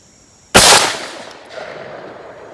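A single loud blast from a 16 gauge shotgun loaded with old-style buckshot at an outdoor range, a sharp sudden report followed by a fading tail and a faint echo about a second later.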